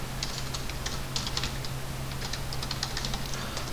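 Close, quick keystrokes on a computer keyboard as CAD commands are entered, a steady run of light clicks over a faint low hum.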